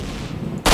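A single loud gunshot in the video game S.T.A.L.K.E.R.: Shadow of Chernobyl, a sharp, heavy blast that bursts in abruptly at the end after a low rumbling game ambience.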